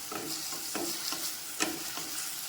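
Tomatoes and onions cooking in a pan for vatha kuzhambu, a steady bright sizzle with several spoon strokes scraping through at irregular intervals, close and moderately loud.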